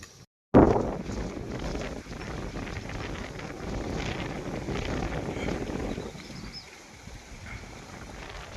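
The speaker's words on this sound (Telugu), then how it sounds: "అయితే గాలి చాలా దారుణంగా తోలుతుందండి" Strong wind roars across the microphone in a broad, sustained rumble after a sudden start, easing slightly toward the end.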